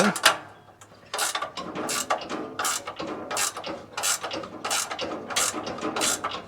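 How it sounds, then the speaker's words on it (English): A ratchet wrench tightens a nut on a lumber mill motor, drawing the motor along its groove. It gives a close, loud series of rapid clicking bursts in a steady back-and-forth rhythm, with no talking. "now we want to tighten this nut, which should pull the motor this way"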